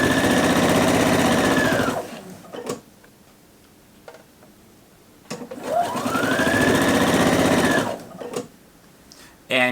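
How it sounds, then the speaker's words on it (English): A sewing machine stitches the facing of a dress at a 5/8 seam allowance, running in two steady, close bursts separated by a quiet pause with a few small clicks. "I'm going to go ahead and stitch the facing in place"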